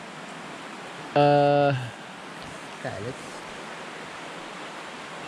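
Strong river current surging through rocky pools at Saasveld, a steady broadband rush of water throughout, briefly broken by a short tonal burst and a person speaking over it.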